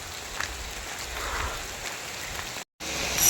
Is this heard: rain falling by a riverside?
yes